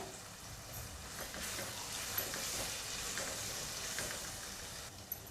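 Prawn masala with tomato and red chilli being stirred in a pan, giving a steady sizzle and scraping with no one speaking.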